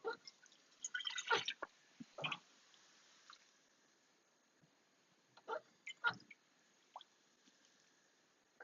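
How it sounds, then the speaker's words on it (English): Tap water runs and splashes into a pan being filled for poached eggs, a few close bursts of gurgling and dripping with quiet gaps between them, no talking. "filling up pan with the water"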